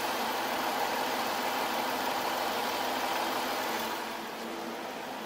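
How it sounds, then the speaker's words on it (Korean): A Jaguar XF 3.0 supercharged V6 engine idles steadily nearby, a smooth even hum that softens slightly toward the end, with no talking. "V6 엔진, 제가 지금부터 엔진 소음 들려드릴게요."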